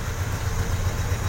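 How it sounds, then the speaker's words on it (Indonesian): A car engine idling steadily just after starting in the morning, with a close, even low rumble and a regular pulsing throb, no talking. "ketika mesin sudah nyala posisi stasioner"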